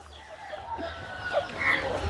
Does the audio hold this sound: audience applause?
no